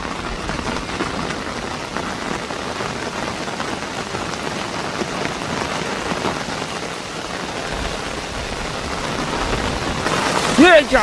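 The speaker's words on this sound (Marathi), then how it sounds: "पावसाने धमाकूल घातलेला आहे पूर्ण आता जोरदार सुरुवात झाली" Steady, heavy monsoon rain pours down continuously, with a dense hiss throughout and low rumbling thunder beneath; a brief sharper sound rises near the end.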